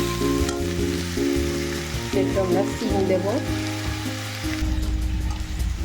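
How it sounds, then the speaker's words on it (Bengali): Kochuri frying in a pan of oil on low heat, a steady close sizzle running throughout while someone talks over it. "আস্তে আস্তে ভাজা হবে।"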